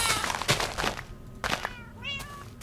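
Minecraft cats meowing in a video game, a few short mewing calls close by, the clearest a rising, wavering meow near the end, with light background game sounds.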